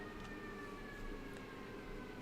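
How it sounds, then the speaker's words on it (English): Far-off wail of an emergency vehicle siren, probably a fire truck or ambulance, passing outside a building, a faint sustained rising and falling tone under a low steady room hum. "There go the fire trucks. Or the ambulance or something."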